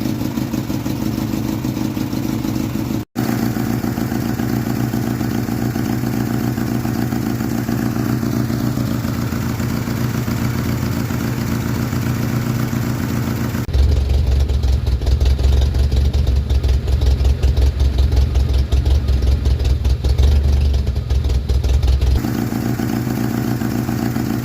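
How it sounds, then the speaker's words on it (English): A 1986 Jeep Comanche with a 2.5L engine idles with a loud, steady mechanical clatter and a rough, sputtering exhaust note, running unevenly throughout with a harsher, louder stretch midway. "It's idling higher. It's still sputtering"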